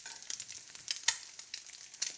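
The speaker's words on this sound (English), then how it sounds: "So these eggs are frying up nicely" Eggs fry in a pan with a steady, crackling sizzle and scattered sharp pops, close and continuous, with no talking.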